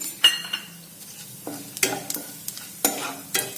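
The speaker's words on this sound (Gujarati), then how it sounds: "મેથીને આપણે સારી રીતે તેલમાં સાંતળીશું." Dried fenugreek leaves are stirred and sautéed in hot oil in a kadai, giving a soft steady sizzle broken by a few sharp scrapes and clinks of a spoon against the pan.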